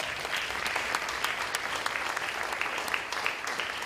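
A crowd applauds steadily at a school ribbon-cutting ceremony, dense clapping sustained throughout at an even, fairly loud level.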